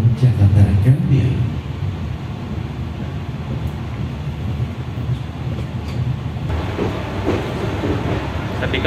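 A Papandayan panoramic class passenger train on the Garut to Jakarta line runs along the rails, giving a steady low rumble heard from inside the carriage, with a spoken voice over the noise early on.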